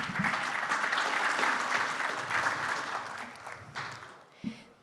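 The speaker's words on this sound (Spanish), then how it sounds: "Así que un fuerte aplauso también para don Gerardo." A loud round of audience applause at a private enterprise congress in 2024, greeting Don Gerardo, thick and sustained at first, then thinning and fading toward the end with a few last claps.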